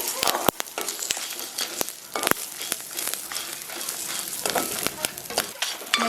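Black pepper, chana dal and curry leaves fry in a pan, a close crackling sizzle with sharp pops and stirring scrapes throughout, under no talk.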